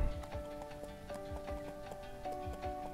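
A slow horse walks in the Ranch Simulator video game, its hooves clip-clopping in a steady rhythm of soft, evenly spaced thuds over a faint tonal background.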